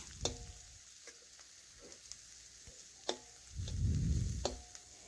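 Potatoes and spiny gourd (kakrol) frying in a pan, with a soft low sizzle under sharp clinks of a utensil and a short louder burst of stirring near the end, quiet and close.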